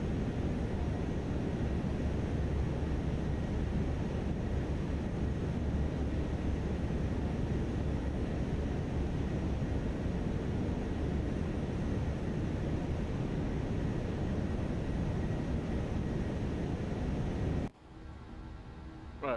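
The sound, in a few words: aircraft engine drone in a flight simulator video game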